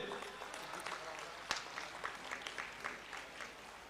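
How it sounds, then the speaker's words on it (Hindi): Crowd clapping at a national school sports meet in a Lucknow stadium during long jump events, a steady wash of applause with scattered louder claps, fairly distant and continuous throughout. "सभी लोग ताली बजाते रहो तेजी से।"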